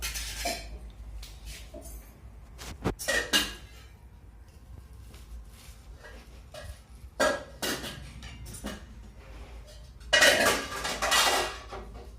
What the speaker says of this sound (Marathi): तर आपण ते कापून घेऊ.